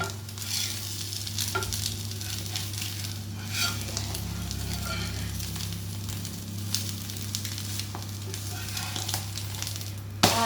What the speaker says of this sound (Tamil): இப்போ ஓரளவுக்கு வெந்துருச்சு, திருப்பி போட்டுடலாம்